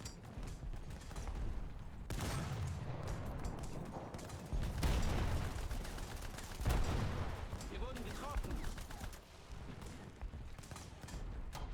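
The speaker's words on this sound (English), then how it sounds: "Getting small arms fire at this point." Small arms fire crackles in a World War I battle in War Thunder, with bursts of shots and heavier thumps under a continuous din, fairly loud and dense with a few brief lulls.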